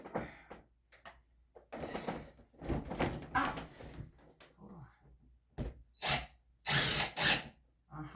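A power drill bores small holes into a wall in short whirring bursts separated by pauses, close by, with some handling clatter in between.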